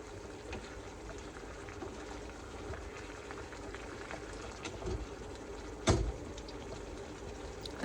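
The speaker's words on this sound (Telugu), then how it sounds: "నీళ్ళు ఇంకేంత వరకు కొంచెం మంచిగా ఫ్రై చేసుకొని" Tomatoes for a village-style tomato chutney cook down in a pan, bubbling and simmering steadily at close range, with one sharp knock of a utensil near the end.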